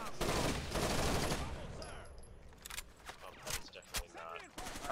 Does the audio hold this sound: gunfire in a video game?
yes